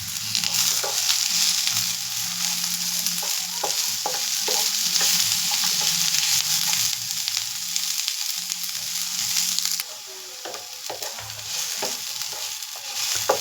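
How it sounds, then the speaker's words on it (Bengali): Vegetables with chopped green chilies fry in a pan for hakka noodles, a steady close sizzle under repeated scraping stirs, the hiss dropping a little partway through before the stirring carries on. "ভেজিটেবলগুলো মোটামুটি আমার হালকা ভাজা হয়ে গেছে"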